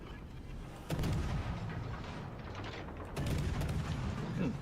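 Naval artillery shells firing in the World of Warships: Legends video game, with two heavy booming salvos roughly two seconds apart over a constant low rumble of game background sound.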